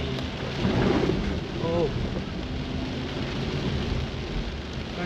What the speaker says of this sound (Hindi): कंटिन्यू बारिश हो रही है भाई,